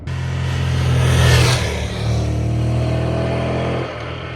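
A Triumph Tiger 1200 motorcycle engine rises in pitch under throttle and then eases back. The steady, smooth mid-range drone carries on for several seconds, close and fairly loud, with no talk over it.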